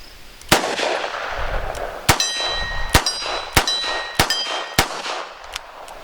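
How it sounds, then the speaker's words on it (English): A Chiappa Rhino revolver loaded with .38 and .357 rounds fires six sharp, loud reports at uneven intervals, each ringing with a metallic clang, close and unaccompanied by talk. "I'm gonna fire 6 shots."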